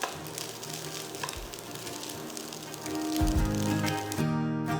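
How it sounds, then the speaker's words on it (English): Rice with sardines fries in a pan with a steady close sizzle and crackle, swelling louder toward the end as stirring scrapes through it, with low tonal background sounds underneath. "continue to fry the rice till they are relatively dry"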